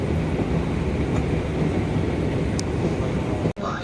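Steady, loud rumble of a Doha metro train in motion, heard from inside the carriage as continuous wheel and motor noise, with a brief dropout near the end.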